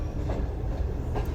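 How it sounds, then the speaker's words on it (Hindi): A train moving along railway tracks just after leaving Larkana railway station, with a steady loud rumble and faint rhythmic wheel clatter from close inside. "जैसे ही ट्रेन हमारी लाड़काना रेलवे स्टेशन से मूव हुई है"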